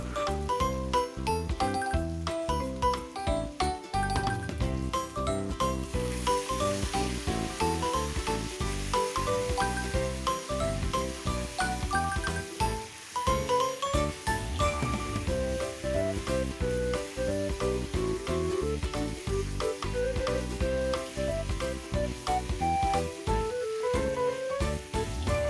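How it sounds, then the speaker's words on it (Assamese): Chicken leg pieces fry in a pan with a steady crackling sizzle, heard close up over background music throughout. "মাংসখিনি ভালদৰে ভাজি ল'ম"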